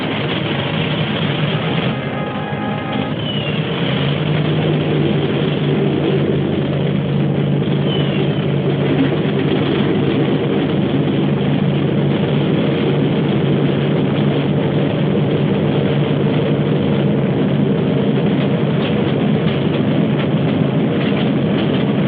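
Engines of a World War II bomber aircraft, 1943, produce a loud, steady droning roar that fills the whole stretch without letting up, with no voices over it.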